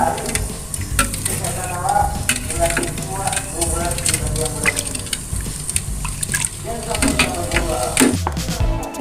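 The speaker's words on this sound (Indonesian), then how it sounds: "baru kita hidupkan apinya ya Bunda. Kita aduk-aduk." Egg curry with tempe is stirred in a pan over the fire, with a steady, loud sizzle and repeated scraping strokes filling the whole stretch, close by.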